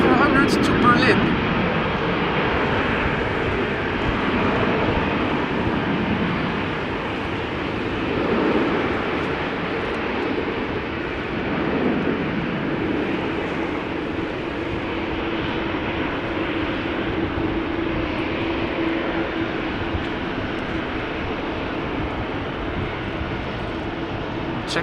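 A KLM Boeing 737-700 jet bound for Berlin at a rainy Amsterdam Schiphol Airport gives off a steady broadband roar that holds for the whole stretch at moderate loudness, with wet ambient noise beneath.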